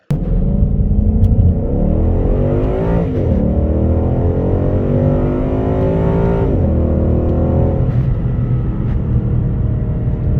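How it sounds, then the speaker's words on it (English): A car, one of a Mustang GT, BMW 230i, Mercedes-AMG CLA45 or BMW M3, launches hard in a 0-60 mph run, its engine roaring loud and close as it climbs through the gears, with rising pitch sweeps broken by brief shift dips. "That was a damn near perfect launch"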